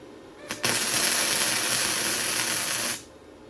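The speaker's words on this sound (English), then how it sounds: "I'm just using a flux core machine. Okay, let's tack it in." A flux core welder tack-welds a chain vice, giving a steady, loud crackling buzz that holds for about two and a half seconds and then cuts off.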